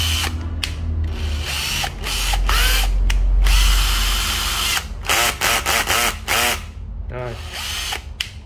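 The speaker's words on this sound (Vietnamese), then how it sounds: "Cây khoan EZT 107 ha." An EZT 107 cordless drill, a used Japanese body sold without a battery, whirs loudly up close in repeated bursts with ratcheting starts and stops, its motor pitch rising and falling, while faint speech sits underneath.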